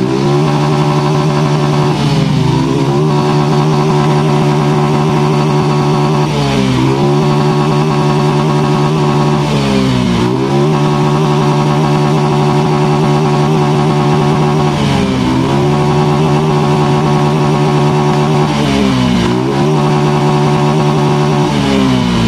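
A Yamaha X-Ride motorcycle engine, being repaired for a sputtering fault, is revved hard at high RPM up to its limiter, rising in repeated surges about every four seconds, loud, close and steady with no one speaking.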